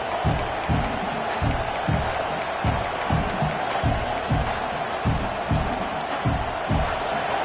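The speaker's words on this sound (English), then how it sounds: "This crowd going to try to make life miserable for these guys" Football stadium crowd roaring and cheering at a steady loud level, with rhythmic rumbling swells from the stands and a broadcast commentator talking over it.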